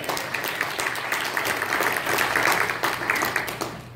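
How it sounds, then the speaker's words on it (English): A church congregation claps hands together in a steady, dense wash of applause lasting several seconds, moderately loud and close, with no talking over it. "Give God a hand clap."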